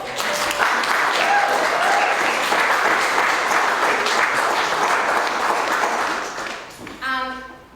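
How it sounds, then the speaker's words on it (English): Audience applause for Kara, a sustained wash of clapping that holds steady for several seconds, then thins out and tapers off near the end. "Can we please give Kara another round of applause?"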